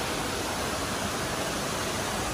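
Small waterfall cascade on a forest trail near Kaptai rushes in a steady, dense roar of falling water, close and unbroken throughout.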